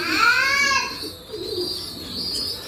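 Pigeons coo close by in a low, rolling warble, with a brief higher call over steady background noise outdoors.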